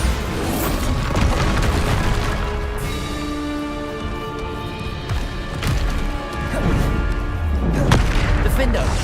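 Bombarda blast spells from Hogwarts Legacy burst repeatedly as heavy booms and crashes amid a dense, continuous wash of game combat effects and music.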